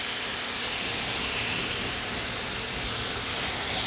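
Spice paste of ground spices and green chilli paste sizzles in a hot pan after a splash of water, giving a steady, close, broadband hiss that stays even throughout.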